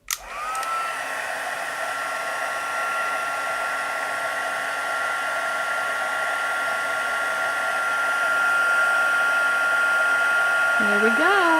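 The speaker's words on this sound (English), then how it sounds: "Heat tool with a little bit of noise here" A heat gun blows with a steady, whining rush of air, loud and close, holding constant before a brief pitch wobble at the end.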